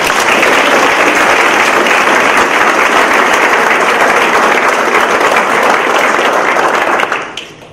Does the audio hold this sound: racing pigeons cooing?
no